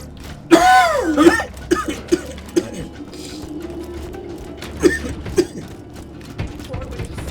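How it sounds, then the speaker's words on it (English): A single harsh cough up close, followed by scattered throat noises and light clicks, with some speech between, in the video game Borderlands 2. "Still have that lingering cough."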